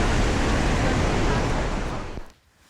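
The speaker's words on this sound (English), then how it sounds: "So here we are flying over the Rhine Falls. This is actually the largest plain waterfall in Europe." The Rhine Falls in Europe roar as a loud, dense broadband wash of rushing water, with wind buffeting, before it cuts off abruptly near the end.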